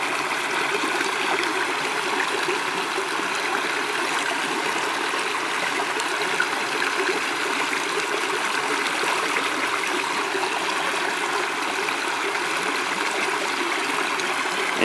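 A river flows in a steady, close rushing wash of water that stays constant and unbroken throughout, with no voices or other sounds.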